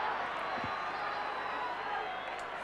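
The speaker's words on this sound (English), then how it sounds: "Crowd really warming, sensing maybe Crows can come back." A steady, dense roar from the football crowd at a Kangaroos vs Adelaide AFL match in round 9 of 2000 swells throughout, with a commentator's voice running over it.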